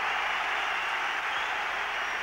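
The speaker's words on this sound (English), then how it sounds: "It's good applause, the Dutchman, as he leaves the scene." Steady crowd applause at an Everton v Liverpool FA Cup second replay football match, a dense continuous wash of clapping from the stands with no breaks.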